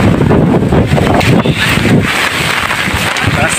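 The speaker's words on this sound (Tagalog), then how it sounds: "Lakas ng hangin." Strong typhoon wind from Typhoon Nika roars and buffets the microphone continuously, loud gusty rushing noise with no pause.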